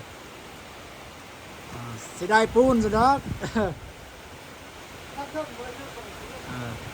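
Heavy storm rain pours down during cement wall plastering, a dense, continuous hiss that fills the scene while several people talk through it.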